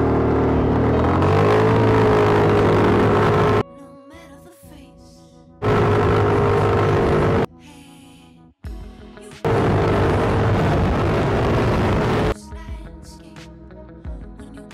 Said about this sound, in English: Okay, acceleration test in 3, 2, 1, go!